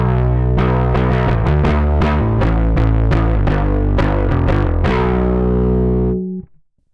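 Electric bass run through an EHX Micro Bass Synth pedal on a Line 6 Helix, with extra higher mids: a loud, thick, distorted synth-bass line of rapid plucked notes for about six seconds before ringing out and cutting off.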